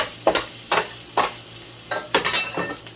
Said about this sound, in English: Shallots. Just want to get them kind of brown and fragrant.